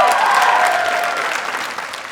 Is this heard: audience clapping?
yes